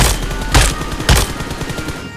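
A gun fires while the player stands in the video game PUBG Mobile: a close, loud burst of rapid automatic shots over a steady rumble, with two harder cracks standing out.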